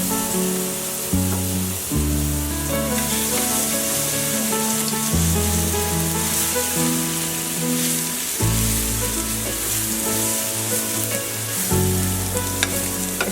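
Rohu fish coated in garlic and chili paste frying in hot oil, a loud, steady sizzle that runs throughout alongside a continuous musical tone, with no voices.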